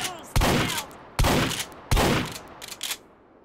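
Three loud, sharp buckshot shotgun blasts fire at targets in the VR game Hot Dogs, Horseshoes & Hand Grenades, spaced under a second apart, each with a short ringing tail, followed by lighter clatter.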